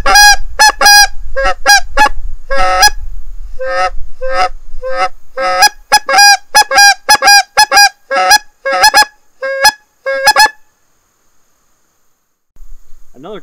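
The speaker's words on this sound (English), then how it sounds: "It's a very natural sounding call in its own right." A JPO OMNI hybrid goose flute call blown by mouth gives a rapid, loud series of sharp honks and clucks, close up, then falls silent near the end.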